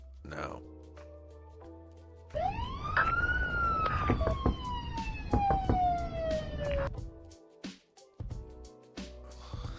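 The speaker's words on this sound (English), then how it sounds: "That's the sound of the police." A police siren wails loudly in a long rising and falling sweep, with a person's voice chattering faintly around it.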